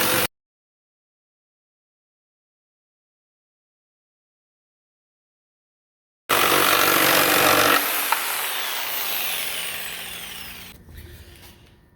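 A power tool cuts through a too-high toilet flange, a loud grinding whine starting after long silence and gradually fading as the cut winds down.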